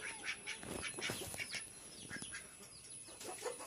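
Ducks quack repeatedly in short bursts, fairly faint, with some clucking fowl mixed in nearby.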